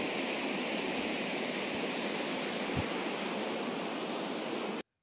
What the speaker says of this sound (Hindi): देखो बर्फ़ के नीचे से पानी बह रहा है